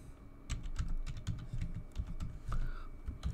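Someone types a password on a computer keyboard to log in to a virtual machine with a domain account: a quick, uneven run of close keystroke clicks, steady and unbroken, with no voices.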